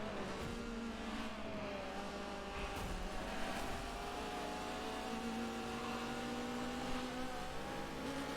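A Huracan race car in a Sebring racing video game roars past, its engine note sustained and revving at steady volume throughout, with faint layered engine tones of other cars underneath.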